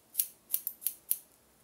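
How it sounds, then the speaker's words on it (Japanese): Scissors snipping bangs during a haircut at a hair salon in Naha, Okinawa: five crisp, sharp cuts in quick, uneven rhythm, close and clear against near silence. "自然にこのハサミの刃先を使ってこう線を描いていくような感じで"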